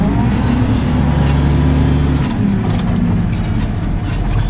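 A tractor ploughing a field gives out a loud, steady low engine drone with a deep rumble that dips slightly in pitch midway. The noise carries on without a break and no one speaks.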